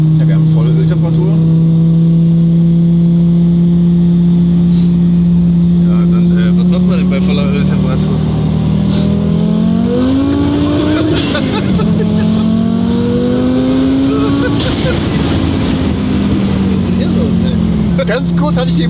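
An Audi A4 with a five-cylinder engine pulls hard on a road, its loud in-car drone climbing steadily in pitch with a brief gear-change dip around the middle before rising again; voices are faintly present beneath the engine.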